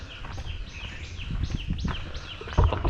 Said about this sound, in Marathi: आवाज म्हणजे पूर्ण पक्ष्यांचाच आवाज आहे या परिसरात.